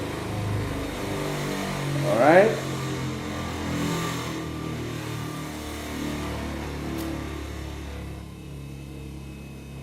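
A small electric lab motor hums with a steady tonal whine that gradually lowers in pitch as its power supply is reduced, with one brief spoken word partway through.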